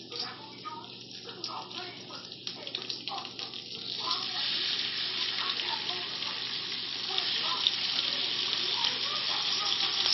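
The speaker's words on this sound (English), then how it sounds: "When you have the rest of the bacon on there, when it all cooks, because you don't want to burn it" Bacon fries in a pan with a close, steady sizzle that grows louder and fuller over time, with a person talking over the start.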